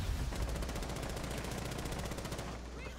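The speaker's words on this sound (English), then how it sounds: "they're already shooting at me" Rapid automatic gunfire in Rainbow Six Siege on the Hereford Base map, a fast steady stream of shots rattling continuously for about two and a half seconds, fairly distant and faint.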